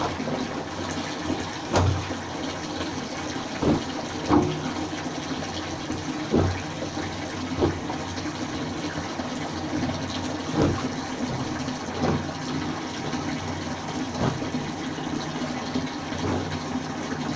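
Water running steadily into a container as it fills, a continuous gushing wash punctuated by regular knocks and thumps, at moderate distance and without talking.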